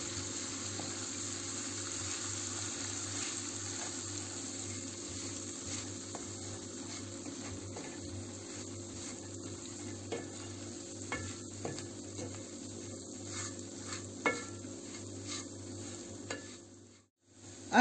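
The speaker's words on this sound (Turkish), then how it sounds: "Arkadaşlar, irmiğimizi bu şekilde sürekli karıştırıyorum. Pembeleşene kadar iyice kavuracağım." Semolina being stirred and roasted in a pan for Turkish milk halva: a steady, continuous scraping and soft sizzle that runs the whole time, with faint clinks near the end and no talk.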